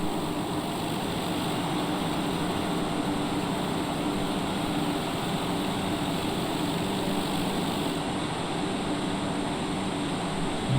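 TBM 930 turboprop airplane engine on landing approach, a steady, loud broadband roar and whine heard from inside the cockpit, holding constant throughout without pauses.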